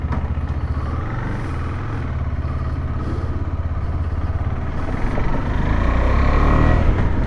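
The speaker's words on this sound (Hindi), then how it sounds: "बाइक का एग्जॉस्ट तो काफ़ी अच्छा है।" A 2024 KTM 390 Adventure X motorcycle engine thrums steadily while riding, its exhaust note deepening and growing louder toward the end, with faint high whines above.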